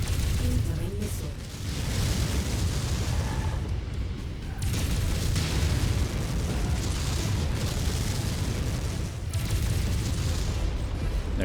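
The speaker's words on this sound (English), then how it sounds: "Incoming missile." Incoming missiles slam into a mech in MechWarrior 5, a dense run of booming explosions and rumbling blasts with short dips between volleys, under occasional game voice callouts.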